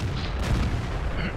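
A tank cannon shell fires in World of Tanks: a heavy, rumbling boom with a broad, sustained roar that fills the short moment.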